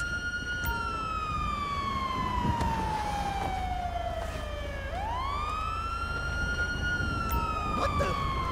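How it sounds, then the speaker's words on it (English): A police siren in Grand Theft Auto V wails steadily, its pitch sweeping down slowly then climbing back up, loud and close over a low engine rumble. "Yo, I can hear the sirens from here!"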